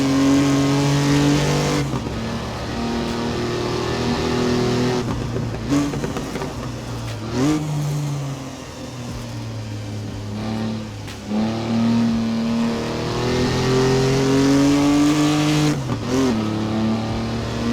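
A 1959 Mk2 Jaguar in Assetto Corsa lapping Donington Park, its engine loud and close, revving up through gears with clear pitch rises and drops at each shift and lift-off, running steadily without any talking.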